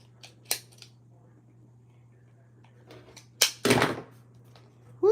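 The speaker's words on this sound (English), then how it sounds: "So I had to do a lot of cutting and trimming and cutting." Scissors snip through Dollar Tree faux leather in a few sharp, close cuts, isolated at first and then a longer cluster of rapid trimming snips, over a faint steady background hum.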